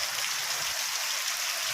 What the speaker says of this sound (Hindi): तब तक बाहर देखा तो बहुत तेज़ बारिश शुरू हो गई थी